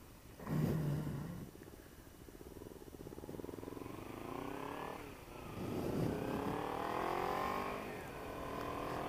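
A 2014 Kawasaki Ninja 300 (EX300 ABS SE) fitted with a Yoshimura R-77 exhaust and PCV pulls away, its engine note rising in layered revs through two or three gear pulls at moderate distance, with a steady rumble between.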